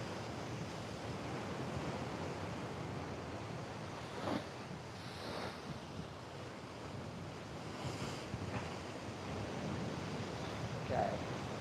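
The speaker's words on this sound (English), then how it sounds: "we might get a bit of backwash action here" Ocean waves wash against coastal rocks with backwash, giving a steady broad roar of surf and wind noise throughout, with a few slightly louder surges.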